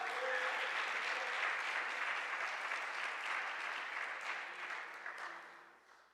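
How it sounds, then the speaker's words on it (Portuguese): A church congregation at an evening service applauds, a broad sustained wash of many hands clapping together that holds steady for several seconds before slowly fading away. "Então dá uma glória a Deus e aplauda ao Senhor essa noite."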